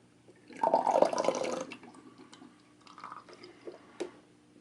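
Liquid pouring from the opened valve of a BrewDemon Big Demon fermenter, a close splashing gush that tapers into softer trickles and drips.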